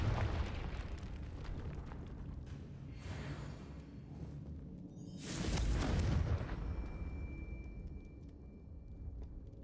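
A single loud fiery blast from the Confringo spell in Hogwarts Legacy on Switch 2 erupts amid game ambience, swelling into a rumbling burst that fades into lingering crackle.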